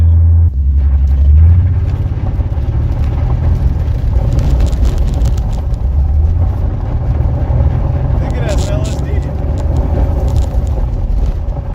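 A 1994 BMW 325i E36 on the move, with a steady engine and road rumble throughout and brief rises in engine tone, while someone talks over it.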